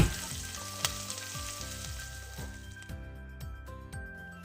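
Chopped onion with salt sizzles steadily in hot oil alongside cumin seeds and curry leaves, a continuous crackling fry with a sharp clink near the start and repeated soft clatter of movement in the pan.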